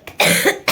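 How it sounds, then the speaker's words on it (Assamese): A single harsh cough from a person, close and loud, a short burst lasting under half a second with no talking. "মোৰ মানে যে বহুত বেয়া কাহ হৈ গৈছে"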